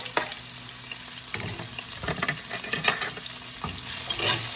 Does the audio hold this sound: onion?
yes